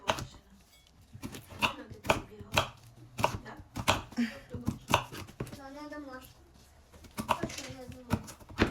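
Walnuts being cut finely with a knife, a rapid series of crisp close chops in a steady rhythm, with a voice talking briefly over them.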